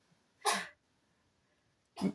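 Two short, close coughs sound in a quiet room, separated by about a second and a half of near silence.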